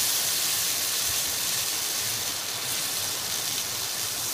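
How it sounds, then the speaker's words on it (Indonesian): Homemade ground rendang spice paste sautéing in a pan gives a steady, even sizzling hiss from start to finish, with no talk over it. "Nah, ini kita tumis sebentar sampai dia harum dan kering."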